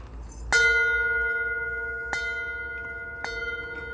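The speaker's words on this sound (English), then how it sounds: "That's an emergency bell." Three distinct strikes of a ringing emergency bell aboard a homemade river raft, each clang sustaining a bright metallic tone that slowly decays, close and clear with no talk.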